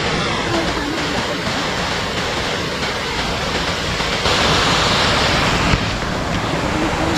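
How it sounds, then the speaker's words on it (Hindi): Water falling at David Fall waterfall in Nepal, a steady, close, loud rushing roar that barely changes throughout, with a slight surge in the middle. "इधर तो पानी के गिरने की आपको आवाज़ सुनाई दे रही होगी"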